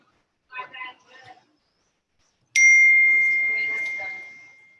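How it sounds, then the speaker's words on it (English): A phone's text message notification chimes as a sharp, bright ding that rings out and slowly fades over a few seconds, coming after a short burst of speech. "I just got a text message."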